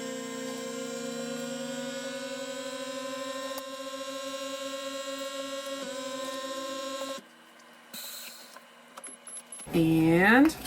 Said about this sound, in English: And perfectly vacuum sealed